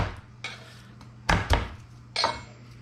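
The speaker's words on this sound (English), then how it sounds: "A couple cloves of garlic. Which we're just going to" Garlic cloves smashed on a kitchen board for pickled Fresno chiles, a few sharp knocks and clatters of the knife and board, two close together near the middle and one more toward the end, over a low steady hum.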